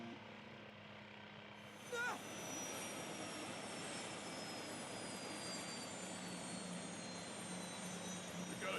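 Damaged, struggling helicopter engine in the video game Anonymous Code: a steady, loud rotor and turbine roar with a faint high whine that holds constant throughout, with a brief jolt near the start.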